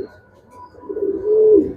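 Racing pigeons coo nearby, a soft low throaty call that swells into a single louder rolling coo near the end, with quiet background noise.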